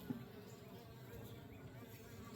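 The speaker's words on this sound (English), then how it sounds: "Probably just piss some bees off there" Honey bees buzz around an opened beehive during a varroa mite check, a steady low drone of many insects at close range lasting throughout with no pauses.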